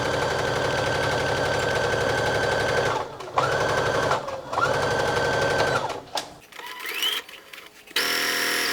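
A sewing machine stitches a seam on garment fabric just beside a serged edge, running in fast, steady bursts with short pauses between runs, close and loud, no voice over it.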